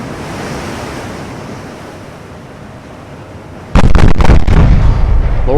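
Turret guns of the USS Monitor firing in the naval game Ultimate Admiral: Dreadnoughts: after a stretch of steady rumbling sea-like noise, a sudden loud burst of several rapid heavy blasts arrives near the end.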